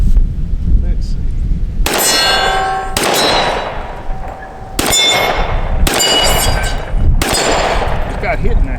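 Smith & Wesson M&P Compact pistol fired in five sharp, loud shots spaced about a second apart, each with a metallic ringing tail, as brass casings are ejected.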